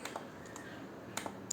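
Typing on a computer keyboard, a few soft, quick key clicks in short bursts, faint and close, with no talk.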